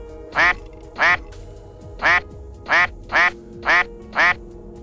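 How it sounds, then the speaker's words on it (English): A patient monster in the Silent Hill video game gives out a series of seven short, loud belching croaks, spaced roughly evenly with brief silent gaps between them and no one talking. "The reason the patients make the top of my list is because of this stupid belching noise"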